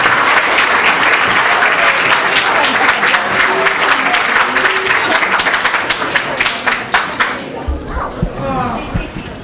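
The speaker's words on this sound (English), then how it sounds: "Please give them another round of applause." An audience at a high school winter sports banquet claps loudly and continuously in a packed room, the applause thinning into scattered individual claps near the end.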